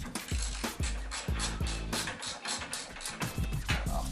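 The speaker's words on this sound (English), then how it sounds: "Now we'll grab the 19mm, undo the wheel spindle." A 19mm socket wrench works loose a motorcycle's front wheel spindle, giving repeated ratcheting clicks and metallic scraping in uneven bursts, close and fairly loud, with no talking.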